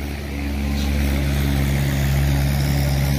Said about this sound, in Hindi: तीन सिलेंडर ट्रैक्टर है भाइयों